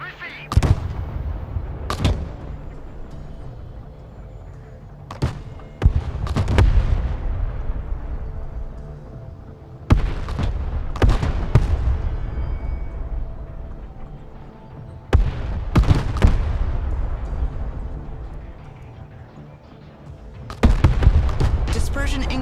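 Booming artillery rounds from the Broken Arrow war game fire in repeated sharp blasts every few seconds, each trailing into a long rumbling echo over a low background rumble.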